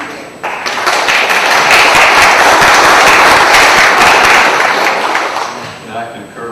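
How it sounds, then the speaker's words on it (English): Audience at a Newton County Board of Commissioners meeting breaks into applause, a loud, dense burst of clapping that swells, holds for several seconds and then fades. "I concur with the applause"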